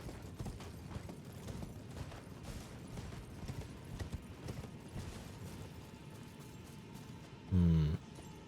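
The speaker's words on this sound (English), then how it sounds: "Can I use my horse? I can actually." Rapid, steady clip-clop of a galloping horse's hooves in Elden Ring, moderately close and continuous, with a brief loud burst of another sound near the end.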